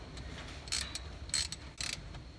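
Ratchet wrench tightening a bolt on the starter of an International 986 tractor, giving three short bursts of rapid metallic clicking spaced about half a second apart over low background rumble.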